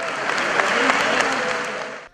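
Sustained applause from a packed crowd fills a courthouse during a funeral ceremony, a dense, loud, even clapping that fades out at the end.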